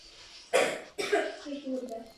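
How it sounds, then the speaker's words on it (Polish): A sick person gives two harsh coughs in quick succession, close to the microphone, followed by a short voiced trailing sound. "Sorry, że tak kaszlę"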